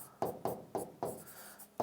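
Chalk or pen strokes from a teacher writing by hand on a board during a lesson, five distinct scratchy strokes in a steady rhythm, close and clear with no talking.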